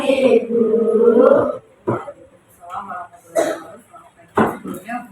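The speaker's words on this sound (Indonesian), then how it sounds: "Sebelumnya kita minta maaf kalau kita masih batuk" A person with a lingering cough clears their throat and coughs several times in short bursts, close and fairly loud, alternating with brief spoken words in a quiet room.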